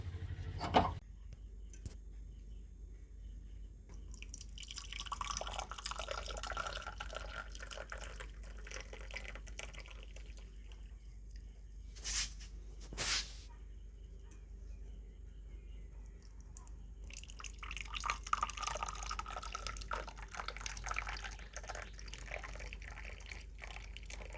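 Caramel tea is strained through a filter in a village kitchen, faint trickling and dripping with soft clinks, quiet and close, with a couple of sharp knocks midway.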